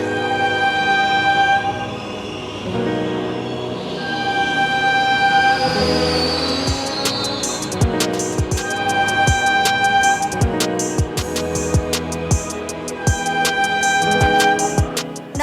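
A train rolls past along a Chennai railway line, its loud horn sounding repeatedly over the rumble, with rhythmic wheel clacks on the rail joints growing sharper as the wagons go by.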